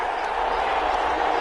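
Stadium crowd roaring steadily in a Madden 21 American football video game, a dense continuous wash of cheering that holds at an even, fairly loud level throughout.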